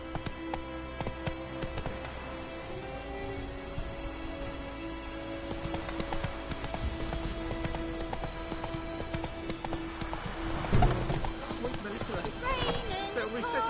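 Roach the horse galloping in The Witcher 3, hooves clip-clopping in a quick, steady rhythm under game music and a character's voice.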